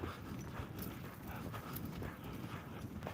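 A horse lopes in a circle under a rider, its hoofbeats a muffled, steady rhythmic thudding beneath a constant outdoor wind-like rumble, moderately distant and fairly faint.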